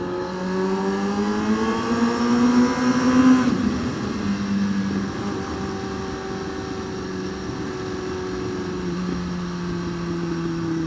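A motorcycle engine revs up, climbing in pitch for a few seconds, then drops back and holds a steady, loud drone with no talking.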